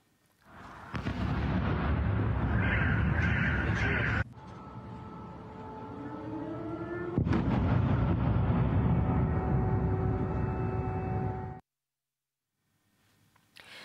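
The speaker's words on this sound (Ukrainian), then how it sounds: "Місцеві телеграм-канали опублікували відео з вибухами" Explosions from a night missile attack in the Kharkiv region are recorded as a sustained, heavy rumbling roar with sharp booming onsets, continuing for about eleven seconds before falling silent.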